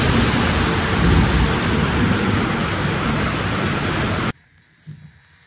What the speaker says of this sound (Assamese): ডাঙৰ বৰষুণ দিছে আমি ৰখি দিছোঁ